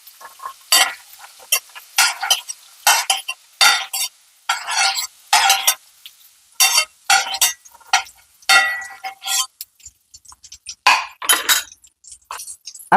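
Vegetables, including capsicum, fry on a hot tawa and are stirred with repeated scraping strokes, up close and fairly loud, coming in irregular bursts with short quiet gaps.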